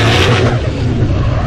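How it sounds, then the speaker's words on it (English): Formula Drift Pro2 car at Road Atlanta during qualifying, engine roaring loud and close with anti-lag crackle and popping as it drifts past. "All the anti-lag and firing off, and wow, a lot of noise is coming from the car."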